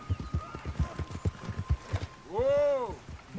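Rapid hoofbeats of an Appaloosa horse in a video game, a steady close clip-clop at a trot, then a loud whinny near the end.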